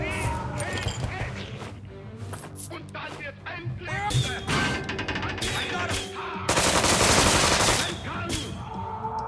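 Rapid video-game gunfire aimed at Nazi zombie rats in South Park: The Stick of Truth, bursts of shots and crashes layered over game sounds, with a closing stretch of dense continuous firing.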